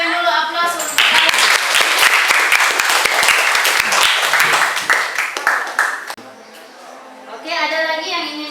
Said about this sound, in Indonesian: Berikan dulu aplaus untuk kalian.